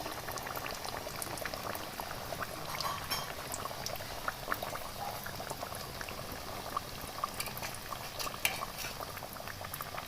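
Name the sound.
kachori frying in oil on medium-low flame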